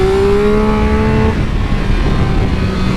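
A Triumph Speed Triple RX motorcycle engine revs loud and close, its tone climbing to the rev limiter and then dropping to a steady rumble.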